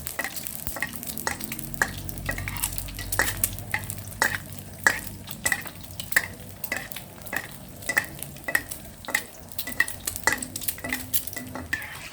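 A runny sunny-side-up egg frying in oil in a pan, with a steady sizzle under repeated scraping and stirring clicks of a utensil against the pan, close and fairly loud with no talking.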